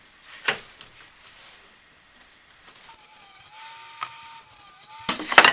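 A table saw cutting wood pieces for a 10-frame migratory-style hive bottom board: a faint tap, then a motor whine spinning up midway into a louder steady cutting roar, ending in a short rough burst.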